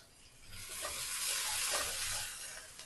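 Onions frying in olive oil in a pan for mutton chops, a dense, close crackling sizzle that swells and fades over a few seconds, with soft stirring scrapes mixed in.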